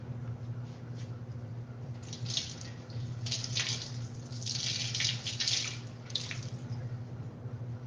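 Freshly dyed yarn is rinsed under a running tap, a steady splashing water stream that swells and varies in the middle, over a constant low hum, with no talk.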